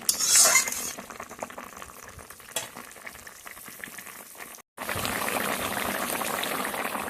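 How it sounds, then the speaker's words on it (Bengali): Eggplant (brinjal) being stirred gently in a sizzling pan, soft scraping and bubbling frying sounds with a short break before a steadier hiss resumes. "হালকা হাতে নাড়াচাড়া করবো যাতে বেগুনগুলো একদম গলে না যায়"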